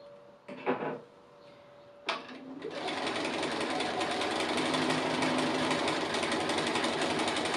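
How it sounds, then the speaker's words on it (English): A couple of short thumps and clicks come first, then a sewing machine starts and runs at a steady fast hum, free-motion straight stitching close to the edge of a fused appliqué, loud and close. "Just straight stitching, free motion style, just on the applique close to the edge"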